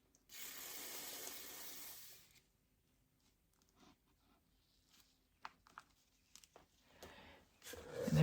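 Acrylic flow paint poured onto a jar makes a soft, continuous liquid rush lasting about two seconds. Quiet intermittent handling sounds follow, then a louder rustle at the end.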